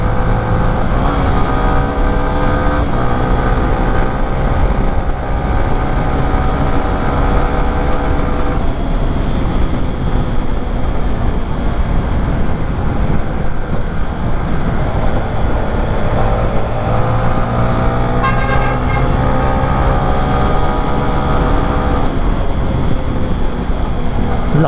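A 2023 Yamaha Sniper 155 motorcycle engine under way while riding, with loud, steady drone and rising and falling rev sweeps through the gears, plus continuous wind and road rumble.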